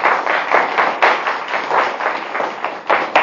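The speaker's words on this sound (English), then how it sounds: "So let's just give them a round of applause." A church congregation at Sunday worship claps for the people who made the decorations, a short burst of steady, fairly close applause with no talk over it.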